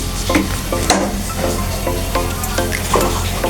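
Mustard oil sizzles briskly in a pan, a close, loud and constant hiss with a few light clicks and stirring scrapes mixed in, and no talking.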